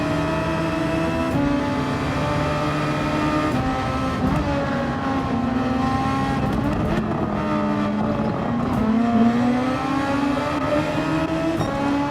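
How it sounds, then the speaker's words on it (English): Super Formula race car engine note in Gran Turismo 7 at Suzuka, engine braking as it slows, steady loud harmonic whine dipping and rising in pitch with continuous game engine drone throughout. "I'm actually slowing down right here, using the engine braking so I don't hit him"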